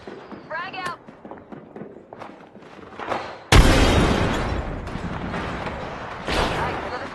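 A frag grenade goes off in the Apex Legends battle royale as a loud, sudden boom with a long, rumbling tail. Before it, in-game voice lines and small action sounds play.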